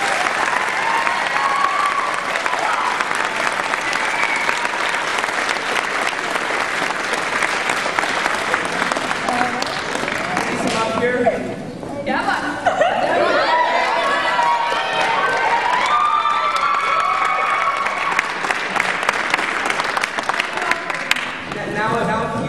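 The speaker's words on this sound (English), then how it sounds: "we just want to give them a big round of applause" Theater audience applauding the backstage and lighting crew after a stage production of How to Succeed in Business Without Really Trying, a dense, sustained wash of clapping with some cheering that briefly dips midway before swelling again.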